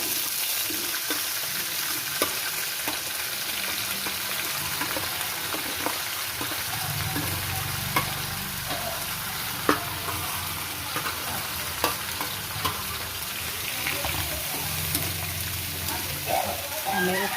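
Ingredients sauté in a hot home-kitchen pan until golden brown, giving a steady sizzle with stirring scrapes and occasional clinks throughout; no one speaks over the frying.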